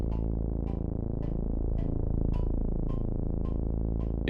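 An Ekksperimental Sounds Ouroboros synth set to a fat unison patch with echo and spread drones thick and steady, pulsing in a regular beat about twice a second with swirling, phasing overtones, unaccompanied.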